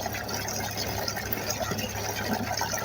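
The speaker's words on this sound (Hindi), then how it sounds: "बल्टी भरा जल्दी पूरा भर ले पानी" Water pouring steadily into a bucket from a tap or pump, a continuous close gushing rush with a faint low hum underneath and no talk.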